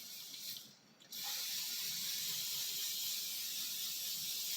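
Cooking spray hisses onto a metal pan in one close, loud, sustained burst after a brief quiet moment.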